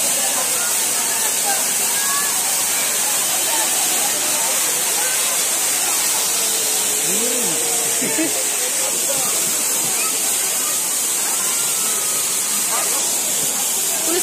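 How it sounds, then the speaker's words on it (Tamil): Heavy water of the Old Courtallam falls crashes continuously down stepped rock, a loud dense roaring hiss filling the whole stretch, with faint crowd voices and calls buried underneath. "ஸ்டெப் ஸ்டெப்பா வந்தாலுமே அதிக போர்ஸோட வந்து விழுது தண்ணி"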